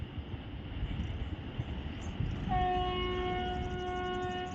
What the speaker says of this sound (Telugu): గూడ్స్ ట్రైన్ అది.